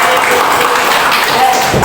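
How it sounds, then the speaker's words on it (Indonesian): A classroom of university students claps during a teaching practice session, a short, loud burst of dense applause heard close by. "Oke, tepuk tangan dulu."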